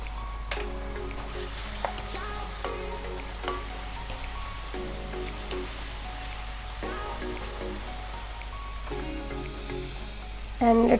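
Tomato puree sizzling in a pan for a chicken pasta sauce, a steady close frying hiss with crackles, joined by faint intermittent tonal sounds and a louder burst near the end.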